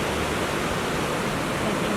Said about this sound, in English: just hear the glacier water coming down